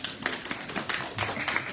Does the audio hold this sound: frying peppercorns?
no